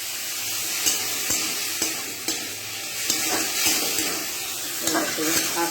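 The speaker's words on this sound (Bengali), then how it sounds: "শাকটা আমি ভাজা ভাজা হয়ে গেলে নামিয়ে নেব।" Water spinach greens fry and sizzle in a pan with steady crackling and occasional stirring scrapes, close and fairly loud, with a voice speaking intermittently.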